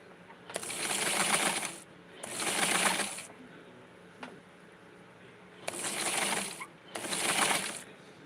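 A sewing machine stitches lining for Barbie doll clothes in four loud, steady bursts of about a second each, separated by short pauses, with no talking.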